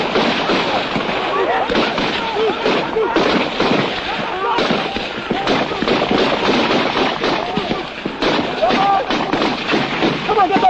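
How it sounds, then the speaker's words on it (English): Rifle and machine-gun fire from soldiers advancing during the Nigerian Civil War, dense rapid cracks and bursts rattling continuously for about ten seconds on an old, band-limited recording. "Most of their bullets are going into the ground ahead."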